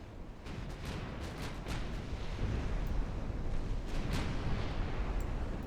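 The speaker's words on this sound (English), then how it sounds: "Torpedo detonated." Torpedo detonations in the naval warfare game Ultimate Admiral Dreadnoughts come as a continuous, fairly distant low rumble dotted with several dull bursts and thumps, all at moderate loudness.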